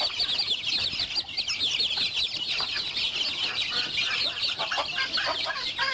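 Chinese silkie chickens cluck and chatter steadily inside a coop, a dense continuous flock noise with overlapping calls and occasional wing flaps, close and loud throughout.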